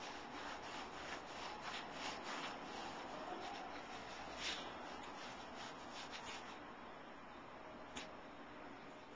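A sponge is rubbed steadily over a wooden photo frame while paint is applied, making a continuous soft scraping and brushing sound that stays close and even, with occasional sharper strokes.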